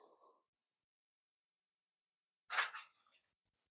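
A single sharp sneeze bursts out in a lecture room after a stretch of near silence, preceded by a faint murmur of speech.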